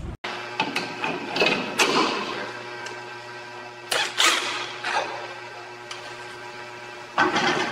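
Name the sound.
driving a threaded bolt with washer into a plane wreck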